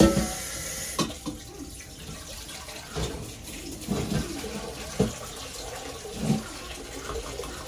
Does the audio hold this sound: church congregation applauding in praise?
no